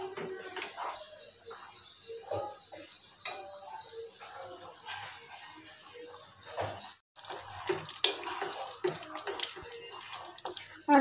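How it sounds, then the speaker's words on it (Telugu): Water is poured into a pan of tomato and potato curry, a moderately faint splashing trickle with brief breaks, while birds chirp faintly in the background. "కొద్దిగా వాటర్ వేసుకుందాము అడగంటుకోకుండా"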